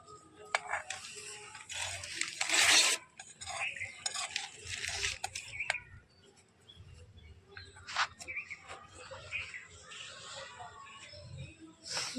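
An egg fries and is stirred in a pan outdoors, with soft sizzling and scraping clinks, a sharp hiss burst early on, and quiet voices in the background.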